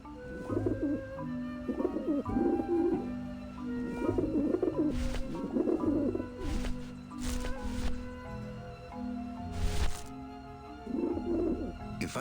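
Pigeons in Grim Fandango Remastered give repeated warbling coos in clusters over a sustained musical backdrop, with scattered wing-like rustles and soft clopping sounds, fairly close and without talk.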